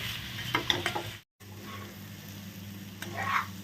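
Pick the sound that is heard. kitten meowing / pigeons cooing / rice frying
rice frying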